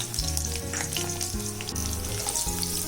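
Diced onion cubes frying in a couple of tablespoons of hot oil for a chicken wings roast, a steady close sizzle with faint stirring scrapes throughout, no talking.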